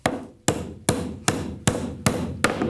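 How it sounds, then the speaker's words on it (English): A regular hammer drives an 8-penny finish nail in six sharp, evenly spaced metallic blows about every 0.4 seconds, each strike loud and close with a short ringing decay. "if I wanted to hammer a nail in with a regular hammer, let's just say an 8-penny finish nail"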